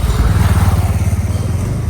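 A 1997 motorcycle engine idles close by with a steady, low, throbbing rumble and pulsing exhaust beats throughout.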